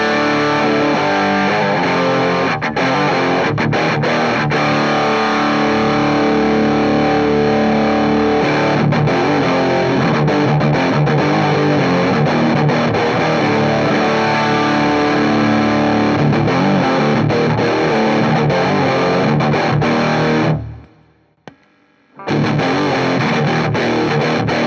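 A heavily distorted electric guitar through a Pro Co Rat distortion pedal with gain maxed plays continuously with thick, saturated gain and sustained chords, then drops out for a moment near the end before resuming.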